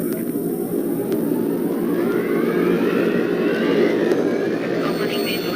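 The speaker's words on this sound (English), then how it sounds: "Engines are up and burning." Jet aircraft engines start up and roar in a loud cinematic sound effect of a Dolby surround demo, a dense steady rumble with a rising whine on top.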